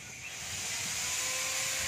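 A leaking welded exhaust pipe on a vehicle gives off a steady, continuous hiss that holds fairly even and close for the whole stretch, with no talking over it.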